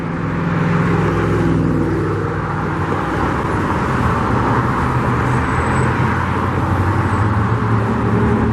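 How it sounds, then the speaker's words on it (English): Water truck rolling past at a stadium construction site in Las Vegas, a steady low engine and tire rumble with a faint whine, heard fairly close amid site and traffic noise. "Raiders water truck."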